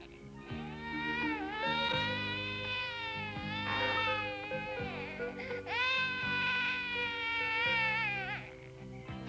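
Drawn-out wailing animal cries from inside a henhouse rise and fall in several long calls, fairly close, with a faint background hum and no talking.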